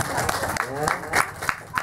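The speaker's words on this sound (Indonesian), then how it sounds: "Tepuk tangan." Children clap their hands in a brief, uneven burst of applause at an orphanage dormitory gathering, with several sharp claps standing out over a low murmur of voices.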